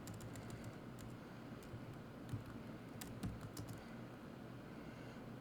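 Computer keyboard typing, quiet and close, with a steady run of light key clicks and a few louder taps over a low hum, no voice.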